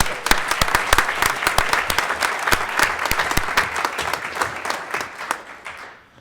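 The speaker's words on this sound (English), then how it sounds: "Let's give them another round of applause." A council meeting audience gives another round of applause, dense crowd clapping with sharp individual claps standing out, fairly loud and sustained, then tapering off and falling quiet at the very end.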